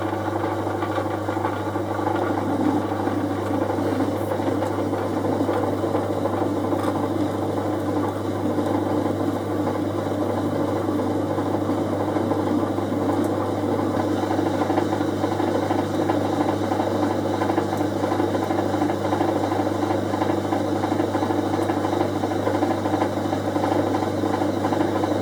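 Steel stock turned on a lathe at its slowest speed of 40 revs per minute, a steady motor hum with a low drone and faint rattling, running evenly throughout with no voices.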